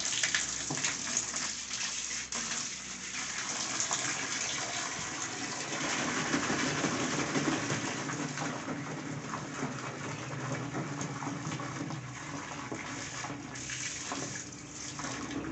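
Water from a tap runs steadily into a bucket holding laundry detergent powder, a continuous, fairly loud splashing gush that lasts throughout with no speech.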